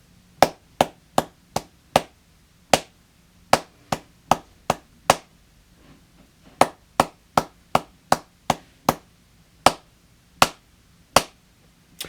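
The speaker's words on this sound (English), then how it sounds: "so you can clap it and say it" Children in a second-grade class clap a rhythm together, sharp unison claps in uneven patterned groups with brief pauses between phrases, clear and close with no talking.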